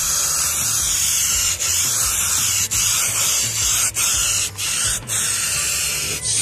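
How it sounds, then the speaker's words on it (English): A nearly empty aerosol can of spray putty primer hisses loudly and continuously up close, broken by several brief pauses between bursts. "A bit of spray putty primer."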